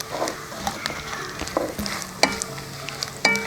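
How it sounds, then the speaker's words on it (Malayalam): Three chopped onions sautéing in a pan for a Kottayam-style pork curry, with a soft sizzle under intermittent spoon scrapes and stirring clatters. "ഇനിയിപ്പം 3 സവാള അരിഞ്ഞത് ഇത് നമ്മൾ ഇട്ട് വഴറ്റുവാണ്"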